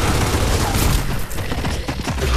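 A dense burst of rapid gunfire fills a video game match, loud and continuous with overlapping shots throughout.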